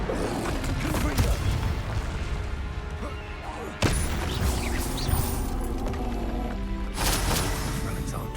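Dense Confringo spell explosions during combat in the game Hogwarts Legacy, continuous loud booming and crashing with sharp bursts near four and seven seconds, layered with battle noise and some voice sounds.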